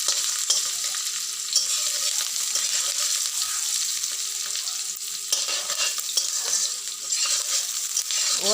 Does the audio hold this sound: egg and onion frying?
yes